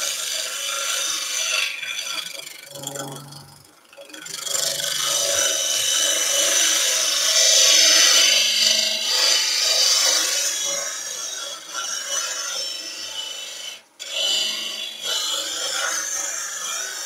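Power tool abrading timber from a banksia nut and epoxy resin vase, a sustained raspy grinding rub that swells and eases, with brief pauses around the fourth and fourteenth seconds, close and loud throughout.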